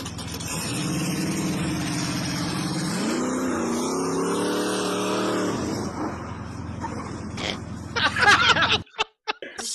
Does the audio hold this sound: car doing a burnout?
yes